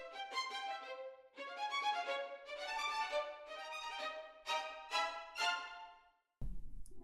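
Spiccato strings from the Cinematic Studio Strings library play a run of short, bouncing detached notes in quick clusters with brief gaps, bright and close with no voices, followed by a low thud at the end.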